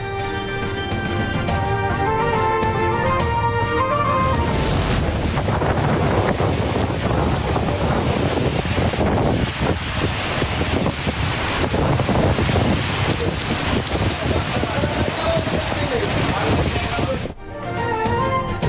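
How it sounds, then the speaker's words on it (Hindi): Heavy rain lashes down in a thunderstorm with strong gusting wind over Islamabad, Murree and the surrounding area, forming a loud, continuous roaring wash that holds steady for most of the stretch before cutting off abruptly. "इस्लामाबाद, मरी और गिरदनवाह में गरज चमक के साथ बारिश।"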